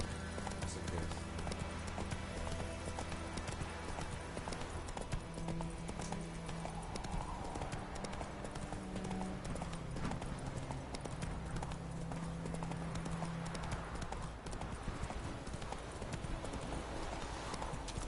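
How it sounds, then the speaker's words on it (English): Horse hooves gallop in the video game Witcher 3 as a continuous, rhythmic clip-clop. They stay fairly quiet against steady background game sound throughout. "Run, Roach. Not so fast, Roach."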